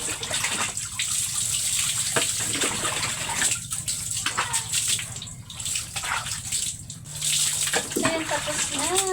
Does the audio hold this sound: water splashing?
yes